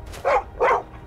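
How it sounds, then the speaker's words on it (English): A stray dog in the Skyrim video game gives two short, sharp barks in quick succession, close and fairly loud, over a faint low background hum. "Stray dog?"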